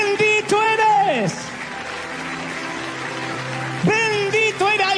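A church congregation claps steadily in the background while a preacher's amplified voice speaks and shouts over the applause at the start and end.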